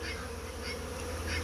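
Honey bees buzz steadily at the hive, a dense, continuous drone of many insects close by, moderately quiet and unbroken.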